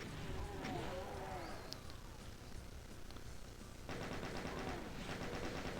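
Chaingunner enemy firing in the classic Doom video game, a rapid stream of gunshots amid dense noisy game action, with an even faster rattling burst in the last two seconds, and a voice talking beneath.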